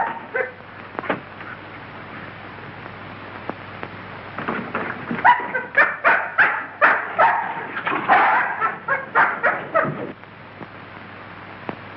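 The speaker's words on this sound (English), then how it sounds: "This dog's been struck a nasty blow." An injured dog in a 1933 mystery film barks in a quick run of sharp, loud yelps mid-way, with whimpers before and after, over a constant hiss from the old recording.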